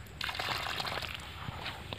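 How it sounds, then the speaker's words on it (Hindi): About a litre of water is poured into a dug ring around a lemon plant in an orchard, making a soft, steady sloshing and trickling close by with small splashes. "ये ऐसे पानी डालना है 1 लीटर"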